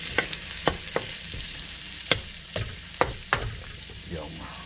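Chopped garlic and onion sizzle in an electric wok, a steady hiss of frying broken by several sharp clicks and scrapes of stirring close by, with no voices.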